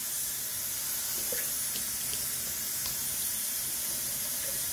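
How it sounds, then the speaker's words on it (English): Cold water runs steadily from a bathroom tap into a sink during a shave, a continuous hiss and splash with occasional small drips, close and unbroken. "A little water out. Let's do a cold water."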